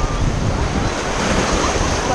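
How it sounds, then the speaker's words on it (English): Water rushes steadily and loudly on the Aquatrek rapids ride at Atlantis The Palm's Aquaventure park in Dubai, a dense, continuous roar with wind buffeting close to the microphone. "I love these rapids."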